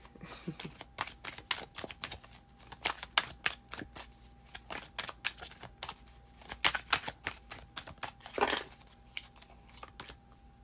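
Close shuffling of a tarot deck, a long uneven series of soft papery flicks and taps with a brief louder riffle near the end, quiet room with a faint background hum.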